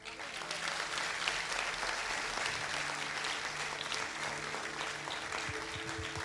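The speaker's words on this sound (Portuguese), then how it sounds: "Puede aplaudir a Jesús." A church congregation at a revival conference applauds steadily and loudly, dense clapping filling the space for several seconds with a low hum beneath.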